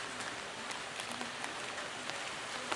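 Steady afternoon rain falls in a village in Sukorejo, Sambirejo, Sragen, a dense even hiss of drops with occasional sharper patters on nearby surfaces, with no voices.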